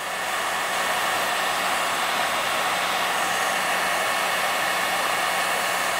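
A hair dryer or heat gun warms car paint to loosen tree sap, giving a loud, steady, close blowing roar that runs unchanged the whole time.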